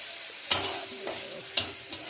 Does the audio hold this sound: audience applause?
no